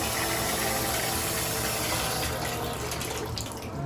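Water pours steadily from a tap into a bathtub, a continuous broadband rush at close range that softens and thins toward the end.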